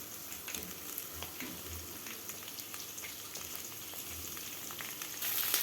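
Chopped onions sizzling in hot oil for lemon rice, a steady faint crackling fry with occasional low stirring thumps, slightly louder near the end.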